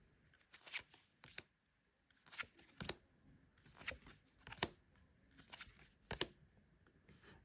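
A tarot deck being shuffled and cut by hand, a series of crisp papery slaps and riffles in irregular bursts, close and moderately loud, with quiet gaps between.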